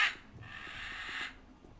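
Birds caw in the video game Gothic II: a few hoarse, crow-like calls, fairly quiet and alone, with a faint background ambience.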